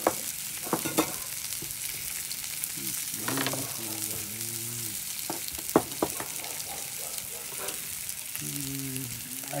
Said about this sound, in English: Saute my mushrooms.